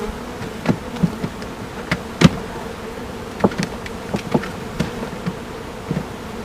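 Honeybees around an open hive during an inspection, with a low steady buzz under a run of sharp clicks and knocks from the hive boxes and cover, close and fairly loud.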